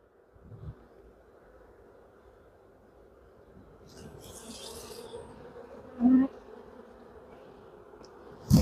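Honeybees buzzing at an open hive during an inspection, a low soft droning hum that thickens midway, with brief louder knocks and a quiet voice nearby.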